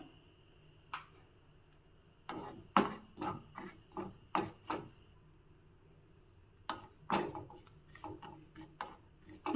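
Coriander seeds dry-roasting in a pan while a spoon stirs and scrapes them, making two bursts of irregular clinks and taps separated by quiet pauses, faint and close.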